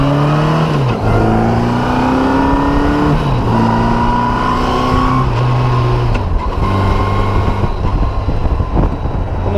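Honda Goldwing motorcycle engine on a test ride through town streets, heard loud and close from the rider's position, with repeated rising revs through the gears and steady engine drone throughout.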